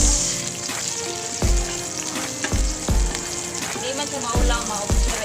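Garlic frying in an old, worn pan for spaghetti sauce, a loud close sizzle broken by several sharp thumps and scrapes of stirring at irregular intervals.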